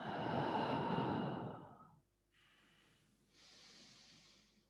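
A long, deep exhale during a prenatal yoga breathing exercise, close and loud, followed by two softer, airy breaths in a quiet room.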